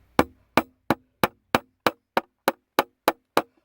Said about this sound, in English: I'm going to go ahead and hammer this